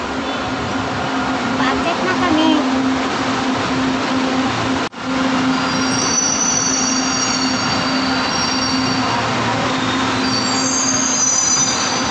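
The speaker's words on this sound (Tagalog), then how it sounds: "Nakasakay na rin kami sa LRT." A light rail train rolls along with a constant rumble while metal wheels squeal in high, drawn-out tones, with faint voices in the background.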